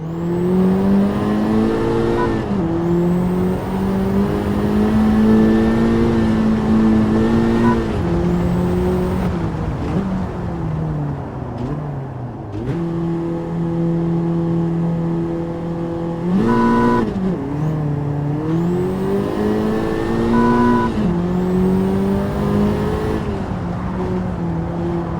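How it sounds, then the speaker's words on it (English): Engine of a new car in a racing video game revving on circuit, a loud, synthetic-sounding drone that rises and falls continuously through repeated gear changes for the full stretch, with no talk over it. "I think this car sounds pretty awful. It sounds like one of those digital sounds that play into the speakers of those new cars."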